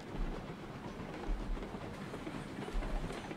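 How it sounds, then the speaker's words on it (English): A train rolls along the rails in the RailRoads Online game, heard from a car well back from the locomotive: a steady, quiet low rumble with faint periodic thumps roughly every second and a half. "taking in the sound of the rail"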